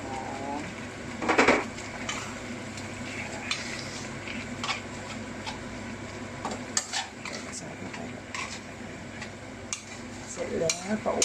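Thai green curry paste stir-fried with fingerroot in a pan, with a continuous low sizzle under repeated scraping and clinking of a utensil against the pan, louder clatters now and then, and a person speaking at times.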